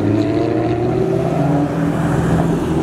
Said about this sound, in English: That thing sounded good. It definitely has an exhaust.